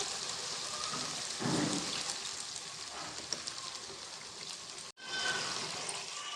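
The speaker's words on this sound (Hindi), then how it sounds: "अब हम इसमें पानी ऐड कर देते हैं।" Water is added to mixed vegetable curry of potatoes, peas and carrots frying in a pan, giving a steady loud sizzle and hiss with a brief surge near the start and a sharp cut partway through.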